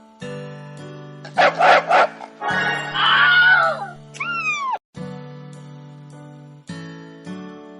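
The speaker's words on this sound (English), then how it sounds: "The dog barked at the ugly duckling" A big dog in a children's cartoon story barks at a duckling: a quick burst of several loud barks over steady background music, followed by other cartoon sound effects.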